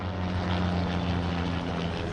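Helicopter ferrying fishermen to and from a lake in Sweden, a steady loud rotor and engine drone with low rhythmic thumping, constant and close throughout without voices.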